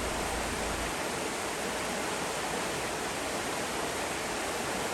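A river in Great Smoky Mountains National Park rushes with a constant broadband roar, a steady, full hiss of flowing water that persists evenly and alone.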